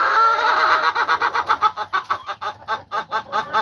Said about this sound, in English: The chicken I've had the longest.